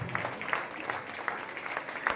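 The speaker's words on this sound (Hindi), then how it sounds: "तालियां रुकनी नहीं चाहिए," Audience applause at a children's dance drama stage show, a fairly faint, steady patter of clapping with a few sharper claps standing out, heard from a distance without voices.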